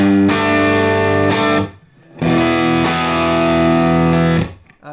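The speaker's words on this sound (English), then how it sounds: "That's no pedals. That's just the matchless amp. A little bit of verb." Electric guitar played through a Matchless amp with no pedals and a touch of reverb: a few loud, sustained strummed chords with clear attacks, ringing alone and close.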